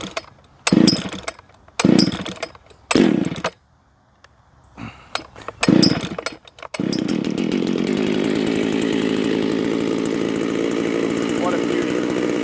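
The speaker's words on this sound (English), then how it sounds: "This here, of course, is the Shindawa 757 that I have ported, and I will be running at Sawfest for the 74cc class." A ported Shindaiwa 757 chainsaw, 74cc class, is pull-started with several sharp bursts, then settles into a loud, steady, close-up run.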